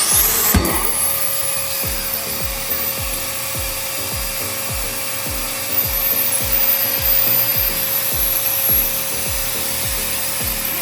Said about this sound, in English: Turn on the vacuum and latch up.